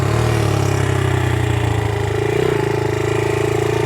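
A 1982 Honda XL80S small-displacement motorcycle being ridden fast holds a steady, loud buzzing engine drone close to the listener, with a slight pitch dip midway and no talking.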